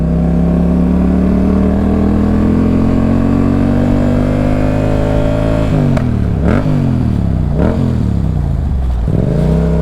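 A motorcycle engine drones loudly and steadily while riding, its pitch climbing gradually, then dipping and rising again in several quick shifts near the end.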